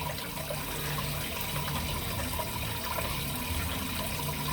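Water runs steadily from a household tap, a constant broadband hiss and trickle that fills the whole stretch without a break and with no voices over it.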